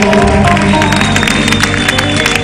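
A TV show studio audience applauds loudly for a trio of folk singers, with crowd cheering layered over lingering music tones in a dense, continuous burst.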